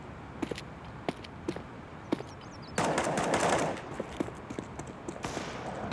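Rapid bursts of automatic gunfire crackle in short volleys, with one longer, louder burst in the middle and sharp isolated shots scattered around it.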